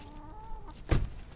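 A chicken clucks once with a short, sharp burst over quiet background hum, close by and fairly loud.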